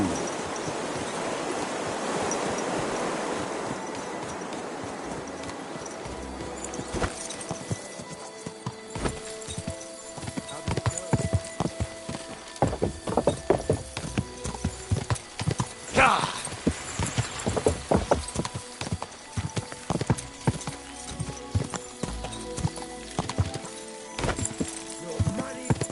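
A horse gallops in the medieval video game Kingdom Come: Deliverance, with rapid, rhythmic hoofbeats that grow loud and close over rustling ambience, and someone speaks briefly over the gallop.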